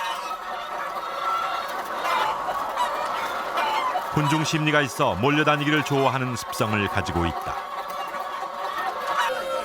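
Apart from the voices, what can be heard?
caged chickens clucking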